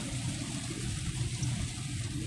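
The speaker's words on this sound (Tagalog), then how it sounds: "Walang tigil yung lakas ng ulan mga katrops." Steady heavy rain pours down in a dense, continuous hiss with a low rumble underneath, in the city of BGC, Taguig, fairly quiet and without any voices.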